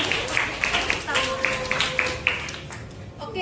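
A small group claps in a room, quick irregular clicks for about three seconds that fade toward the end, with a low hum underneath.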